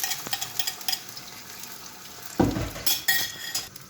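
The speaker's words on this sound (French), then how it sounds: "Je vais mettre ma préparation dans ma marmite. Alors, je vais bien laisser chauffer." Armenian dolma filling heating in olive oil in a pot, soft sizzling under clinks and scrapes of a spoon against the metal, with a sudden louder burst of frying midway.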